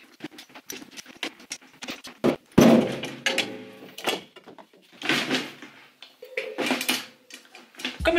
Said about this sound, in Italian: Togliamo la pelle vecchia e mettiamo quella nuova.